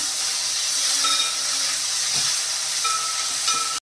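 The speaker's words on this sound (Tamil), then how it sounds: "தக்காளி வதங்கும் போதே இஞ்சி பூண்டு பேஸ்ட்டு 1 ஸ்பூனு, இஞ்சி 1 ஸ்பூனு, பூண்டு 1 ஸ்பூனு சேர்த்துட்டு அதையும் சேர்த்துட்டு நல்லா வதக்கணும்." Tomatoes sauté in a pan with ginger-garlic paste for street-style paneer pav bhaji, giving a steady, close sizzling hiss with faint stirring scrapes throughout and no talk.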